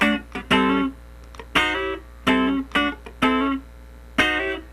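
Funk rhythm guitar plays one bar of syncopated, muted chord stabs, some sliding into the chord, in short percussive bursts with brief gaps between them, alone and up close.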